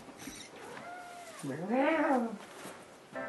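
A cat meows in a video game, one rising-and-falling drawn-out meow preceded by faint chirpy game sounds, with no talk.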